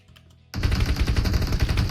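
A loud, sustained burst of automatic gunfire from PUBG Mobile bursts in abruptly after a quiet half-second and keeps rattling densely and close to the end.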